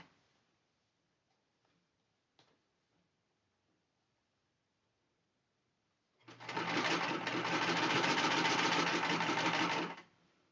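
A simple domestic sewing machine stitching fabric: a steady, fast mechanical whir lasting about four seconds after near silence, close and alone with no talk.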